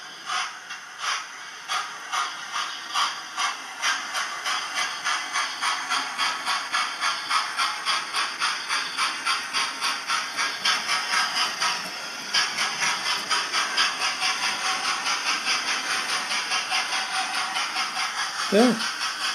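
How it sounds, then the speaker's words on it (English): A Hornby A4 model locomotive fitted with a TTS sound decoder chuffs steadily, its rhythmic steam beats quickening as speed builds, with a brief knock near the end. "it basically starts chuffing"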